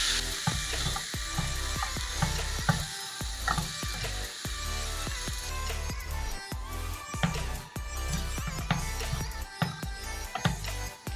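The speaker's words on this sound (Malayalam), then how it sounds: "ഒന്ന് മൂത്ത് വരുമ്പോൾ മുറിച്ചു വെച്ച കഷ്ണങ്ങൾ ചേർത്ത് നല്ലതുപോലെ ഇളക്കി കൊടുക്കാം." Watermelon rind pieces are stirred into a pan of oil with garlic and chilli flakes, giving a moderate sizzle broken by repeated sharp scraping and clinking strokes of a spoon against the pan.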